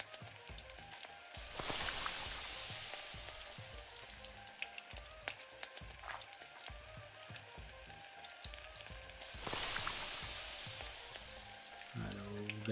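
Takoyaki cooking in the video game Venba on Nintendo Switch, a soft continuous frying sizzle with two louder hissing swells and faint clicks, fairly quiet, with no talk.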